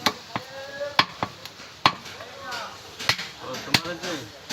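Butcher chopping a big cut of beef at a small village meat market, sharp cleaver strikes landing every second or so, with faint voices underneath.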